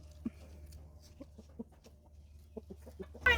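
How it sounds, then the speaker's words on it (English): A chicken on a farm clucks in a run of short, fairly soft bursts over a steady low hum, with no voices. "What is that chicken doing back there?"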